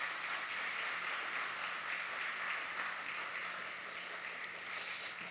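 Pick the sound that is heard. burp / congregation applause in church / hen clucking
congregation applause in church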